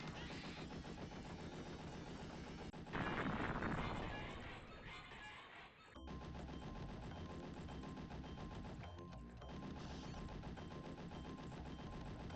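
Continuous rapid gunfire from a video game with an 80s mecha style, a dense barrage of machine-gun bursts punctuated by a heavier crash or explosion midway, loud and relentless almost throughout.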